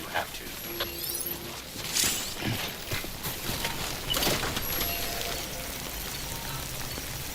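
Timefall rain in a video game falls as a steady, fairly loud hiss of drops, with scattered mechanical clicks and ratcheting sounds over it and no voices.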